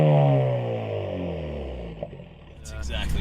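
A Ford Focus RS with a catless, resonator-delete exhaust on the Autobahn gives a loud engine note that falls as the revs drop, followed by a few sharp crackles and pops near the end.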